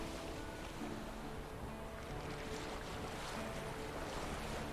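Water sloshes and washes steadily against a sailing boat's hull, with a soft wind hiss and faint creaks, no voices, in the video game The Witcher 3: Wild Hunt.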